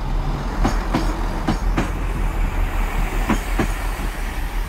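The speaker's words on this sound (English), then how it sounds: "166203, Great Western Railway, arriving here at Guildford." A Great Western Railway class 166 diesel unit, number 166203, pulls into Guildford station, a steady rumble of rail running underneath while wheels clatter over rail joints in spaced pairs of clicks, with no voices.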